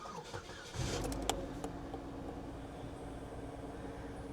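A Chevrolet HHR with 121,000 miles, nearly 20 years old, starting at an auction yard: a short cranking burst, then the engine catches and settles into a low steady idle, heard close with a few faint clicks and no talking.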